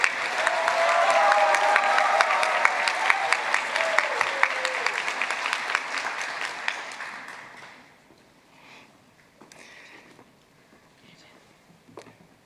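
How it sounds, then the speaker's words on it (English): An audience at a fall commencement ceremony applauds doctoral graduates with loud, dense clapping that holds for several seconds, then fades to scattered claps and quiet murmuring. "join me in one more round of applause for all of our doctoral graduates"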